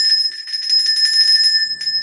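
A bright electronic notification bell chime rings steadily for about two seconds, loud and sustained with a shimmering tremolo, alone without any voices.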